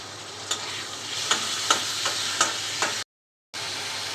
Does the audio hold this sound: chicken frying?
yes